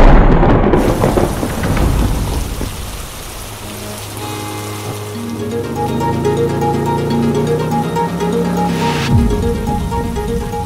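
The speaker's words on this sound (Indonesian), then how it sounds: "Hujannya deras banget, Din." Heavy rain drums steadily on a surface while thunder rumbles and rolls low beneath it, loud and close throughout.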